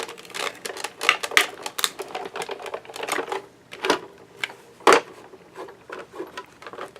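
A manual die cutting machine cranks a magnetic plate with a cross-shaped die and paper through its rollers, giving an uneven run of close, sharp mechanical clicks and rattles over about seven seconds, with no talking.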